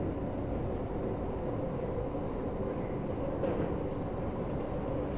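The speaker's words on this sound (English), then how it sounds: "There's the back of the train, like it's leaving." A 1999 Jubilee Line train in the OpenBVE simulator pulls away, giving a steady, continuous low rumble and rolling noise at an even level throughout.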